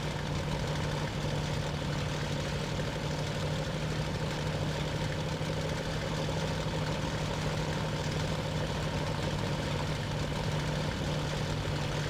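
A Bf 109 F-2 engine in the IL-2 Sturmovik flight sim idles at low throttle, a steady, even drone with a low hum and a faint propeller whir, continuous and unchanging.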